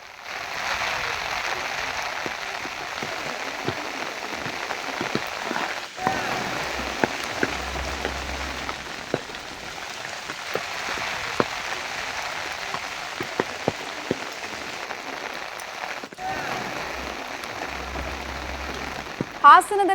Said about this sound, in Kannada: ಹಾಸನದಲ್ಲಿ ಕಂಡು ಬರ್ತಾ ಇರುವಂತಹ ಮಳೆಯ ಚಿತ್ರಣವನ್ನು ನೋಡ್ತಾ ಇದ್ದೀರಾ